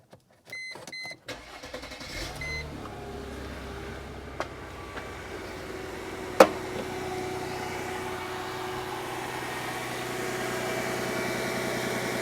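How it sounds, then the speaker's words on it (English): A car engine cranks with a few clicks and chimes, catches, then settles into a steady idle that hums on for several seconds, with a couple of sharp taps along the way. "I'm gonna start my engine so you can see what happens in a good way"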